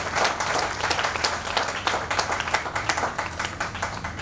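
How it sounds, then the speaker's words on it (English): An audience at a Sunday morning event of the Virgin Islands Emancipation Festival gives a steady round of applause, dense overlapping claps filling the room at a constant level throughout. "Give them a round of applause."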